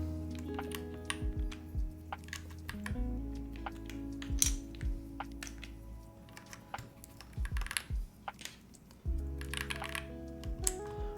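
Quick clicky typing on a mechanical keyboard fitted with Tangerine switches, irregular bursts of crisp keystrokes heard faintly over low background music.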